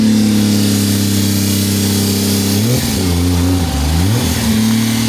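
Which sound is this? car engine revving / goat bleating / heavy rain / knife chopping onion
car engine revving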